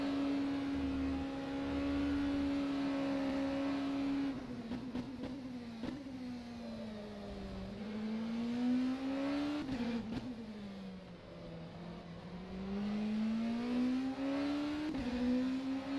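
An LMP2 race car engine in rFactor 2 hums steadily at a low idle or cruising pitch, rising and falling gently as the car rolls slowly, heard alone and fairly close.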